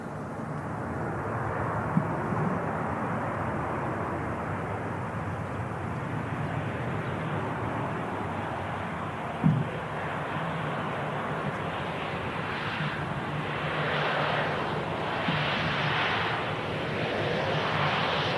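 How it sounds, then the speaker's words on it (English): A Ryanair Boeing 737-800 touching down at Manchester Airport, a steady broad jet roar with faint thumps, swelling louder toward the end as the engines and airflow build, heard from a distance with no talk. "Ryanair 737-800 just touching down."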